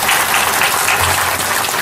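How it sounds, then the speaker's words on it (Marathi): A kirtan congregation claps together, a loud, dense burst of applause filling the whole moment with no voices. "एकदा टाळी वाजवतो"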